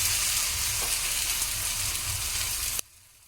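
Onion and tomato sizzle loudly in hot oil with dried fish in a Marathi-style dry fish dish, a steady dense crackle that runs unbroken and then cuts off abruptly near the end.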